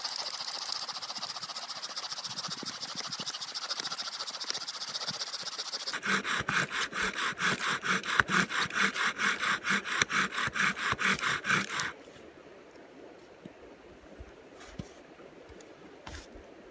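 A bow drill works a dead, dry willow spindle against a dry white spruce driftwood baseboard outdoors: a steady hiss and rasp, then six seconds of fast, loud back-and-forth sawing strokes that stop abruptly, leaving faint ambient noise.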